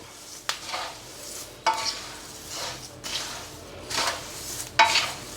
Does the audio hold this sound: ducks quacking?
no